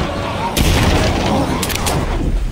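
Video game gunfire: loud booming shots over dense, continuous in-game noise across a couple of seconds.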